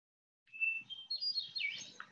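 A recording of a hermit thrush song plays back: a clear, high, pure whistled note followed by a rising run of fluttering, ethereal phrases, moderately faint and heard alone over low background room noise.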